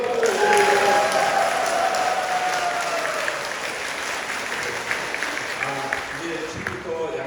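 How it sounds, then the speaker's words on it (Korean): Parishioners at a Catholic parish Holy Spirit seminar give the priest sustained applause, a full, even roar of many hands clapping in a reverberant hall, with some speech running underneath. "신부님 다음에 또 뵙겠다는 감사의 박수를 또 한번 올려드립니다."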